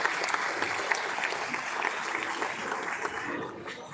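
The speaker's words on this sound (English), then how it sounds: "May we give a huge round of applause to the young choir for singing with such elegance and grace." Audience applause at a kindergarten graduation ceremony for a young choir, dense and steady clapping from a crowd that fills the short clip and eases slightly at the end.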